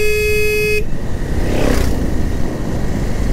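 Road traffic of speeding bikes and auto-rickshaws: a loud horn blares for almost a second, then a vehicle rushes past close by amid steady engine rumble.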